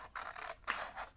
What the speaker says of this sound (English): I might as well do this with a pair of scissors while I'm here